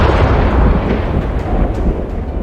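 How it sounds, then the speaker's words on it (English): Thunder rumbling overhead as a sound effect in a tabletop role-playing session, a dense, sustained low roar with no clear breaks across the clip, heard alone. "that sudden burst of light from the thunder that erupts overhead"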